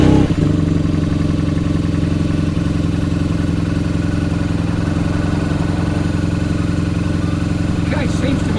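A BMW R nineT motorcycle engine fires up with a sharp start and settles into a steady, loud, close idle with a throbbing mechanical clatter that holds throughout, with a small blip near the end.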